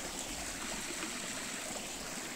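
A mountain stream in Zakopane, Poland flows close by in a steady, continuous rush and trickle, with no voices over it.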